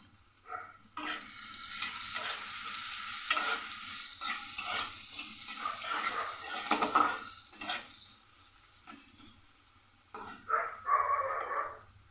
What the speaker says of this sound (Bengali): গাজরটাই ভাজতে একটু টাইম লাগে।